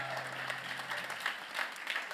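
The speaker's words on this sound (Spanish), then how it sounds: "Un aplauso para Mago, servidora." A congress audience applauds in a large hall, a steady, fairly faint wash of many hands clapping with a low hum beneath.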